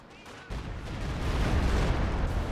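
A Stuka dive bomber strikes a mortar team in Company of Heroes 2, a deep explosive rumble swelling up after a quiet start and holding heavy and loud to the end.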